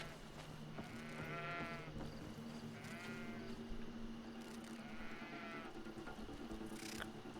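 Sheep in the video game Greedfall bleat several times in wavering, drawn-out calls over a low steady game background, with one sharp brief sound near the end.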